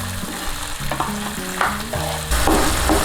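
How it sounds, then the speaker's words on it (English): Finely chopped onion frying in hot oil for restaurant-style masala chicken, a steady close sizzle broken by the scrape and clatter of a spoon stirring the pan, with no voices. "Now add 1 finely chopped onion. And now give a quick shot of mix."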